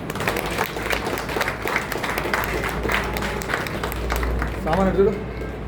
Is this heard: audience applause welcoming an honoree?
yes